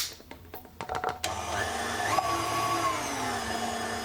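An electric mixer whisks cake batter with flour for an apple roll cake: a few quick clattering starts, then a steady close motor whir with whining tones.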